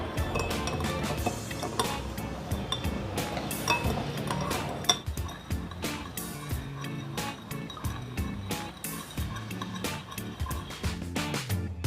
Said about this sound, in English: Dissolve the sugar and salt by stirring.